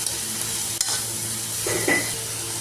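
Onions and other ingredients for coriander chutney sizzle softly in a pan, a steady close frying hiss with a brief stirring scrape midway.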